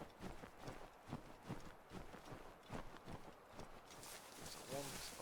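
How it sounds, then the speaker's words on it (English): A horse in Assassin's Creed 3 gallops away with rhythmic clip-clop hoofbeats, fairly near and steady, over game ambience and water-like wash, with a voice talking throughout. "I think my horse ran away"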